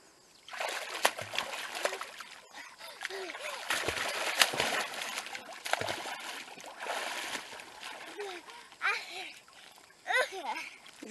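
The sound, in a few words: child splashing in a swimming pool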